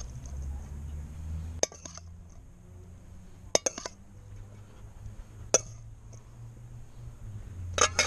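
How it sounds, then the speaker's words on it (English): A metal spoon clinks against a cast-iron Dutch oven while hot sausage is served, giving a few sharp, scattered taps over a low background hum. "This is really hot, so I'm gonna use the spoon."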